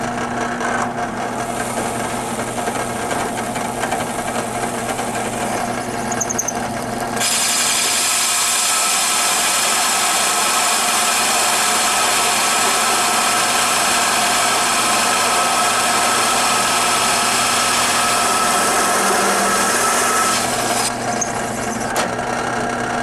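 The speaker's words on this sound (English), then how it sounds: "I'm going to drill a couple holes." A power drill runs through the top piece of a mini arcade cabinet, whining steadily and close for about fourteen seconds, with quieter workshop noise before and after.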